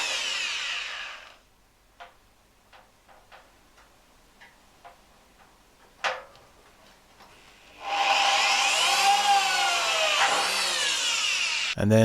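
A power drill bores small pilot holes into the steel box section of a camper van's underside. It opens with a whining burst, then scattered clicks and taps, then a loud, steady drilling whine that rises and falls in pitch until the end.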